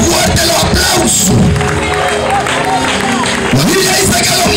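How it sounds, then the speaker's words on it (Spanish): Congregation at a Pentecostal evangelistic church campaign clapping and cheering in a steady crowd roar, with whoops and voices woven through the applause. "Dale fuerte lo aplauso."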